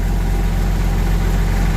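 Old hand tractor engine idling up close on a farm, a steady low rumbling chug with even vibration throughout and no voices.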